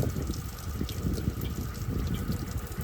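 Water running steadily along a path toward a stream, a continuous soft rushing and trickling wash with no voices.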